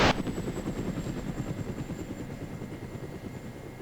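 A Mi-17 helicopter in the combat game ArmA: Resistance thuds past with a loud, steady rotor chop that fades slightly over a few seconds, opening with a sharp burst and no talk over it.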